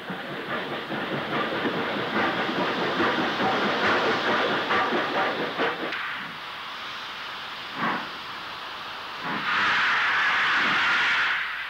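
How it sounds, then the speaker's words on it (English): An iron ore train rumbles past Burton Point near Shotwick on the Wirral, 1967, with steady rolling clatter of wagons loud at first, then easing to a softer hiss and a few isolated clanks as it draws away. "This was the last of the ore trains passing Burton Point"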